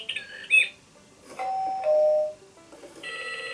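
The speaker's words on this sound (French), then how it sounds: "c'est quand on appuie sur les animaux, on a des petits thèmes musicaux qui se mettent en marche." A VTech Super Porteur 2-in-1 ride-on toy plays short electronic chimes and little musical jingles when its animal buttons are pressed. The tones are bright and beeping, come in separate bursts with brief gaps, and play alone at moderate volume.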